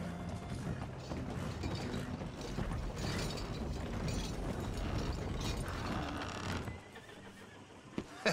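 Horse in Red Dead Redemption 2 whinnying amid dense, steady game mechanics and hoof clatter, loud and continuous for most of the stretch before dropping away near the end with a couple of sharp knocks.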